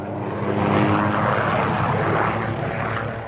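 A helicopter flying over remote New Zealand backcountry, a loud, continuous whirring engine and rotor roar that swells slightly and then eases, with no voices.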